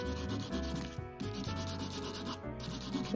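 Acrylic nails being filed smooth after a clear coat, a steady rhythmic rasping with repeated short strokes, close and fairly loud, with brief pauses and no talking.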